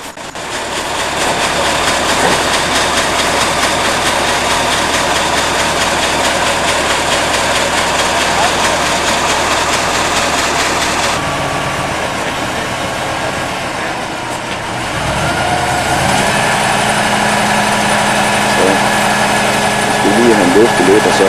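A truck and crane engine idle while a boat is being readied for loading, a loud steady diesel drone that shifts in tone partway through, with people talking over it.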